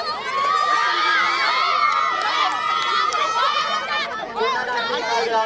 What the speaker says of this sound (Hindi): तालियां करें चंदना सर के लिए एक बार